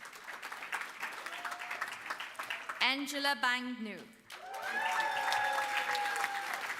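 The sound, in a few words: audience applause for graduates at a graduation ceremony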